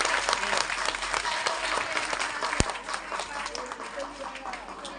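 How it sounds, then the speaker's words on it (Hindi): An audience at a school annual function and prize distribution breaks into steady, fairly faint applause for the teachers, with sustained clapping filling the hall. "जोरदार तालियां हो जाए एक बार सभी टीचरों के लिए।"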